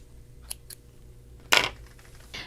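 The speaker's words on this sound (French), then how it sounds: "Puis, je vais aller couper l'excédent." Scissors snip excess thread from a doubled needle thread: a couple of faint light clicks, then one sharp, close crisp cut, followed by a softer snip, in a quiet room.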